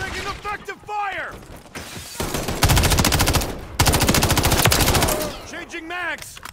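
Call of Duty MW3 gunfire on a PS5 battlefield: sustained rapid automatic bursts, loud and close, hammering through the middle with shorter shots around them, while voices shout at the start and end.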